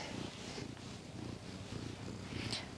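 A pet cat purring close up, a soft rhythmic rumble pulsing in steady breaths, quiet and alone.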